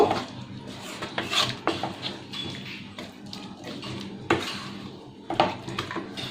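A spoon scrapes and taps against a pan while potatoes and spices are stirred into a curry with potol and prawns. The knocks are intermittent and close, with scraping, over a quiet kitchen background.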